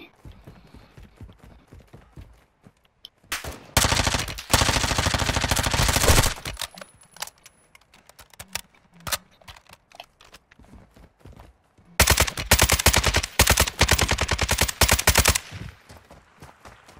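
Turret machine gun fire in Call of Duty: Modern Warfare II, two long, loud sustained bursts of rapid automatic fire separated by quieter background game noise.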